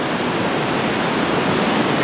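A river in a valley flows steadily with a dense, continuous broadband rush of water, loud and unbroken throughout, with no voices.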